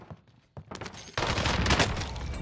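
Shotgun fire in a first-person shooter game, with a few faint thuds and shots building into a dense, louder burst of gunfire and impacts over the final second or so; no talking.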